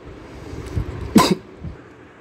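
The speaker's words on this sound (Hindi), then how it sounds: "सॉरी, थोड़ा खांसी के लिए।" A single sharp cough from a man lecturing indoors, close and fairly loud, with a short throaty burst in the middle and quiet room tone around it.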